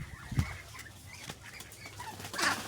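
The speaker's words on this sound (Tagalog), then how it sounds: "Ayun, pinahuli po nila yung pato." A duck flaps and struggles while being caught on a farm, with brief bursts of wing beats and scuffling, fairly faint and close, with no talking.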